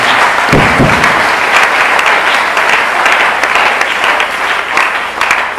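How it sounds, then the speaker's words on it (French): A church congregation at a French-language sermon bursts into loud, sustained applause and cheering, a dense wall of clapping that holds steady throughout with no speech over it. "Est-ce que tu peux acclamer très fort pour la parole de Dieu?"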